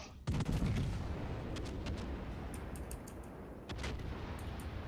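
Warship guns fire in a World of Warships match, a heavy booming blast followed by rumbling, crackling artillery that rolls on continuously, with a second strong report near the end.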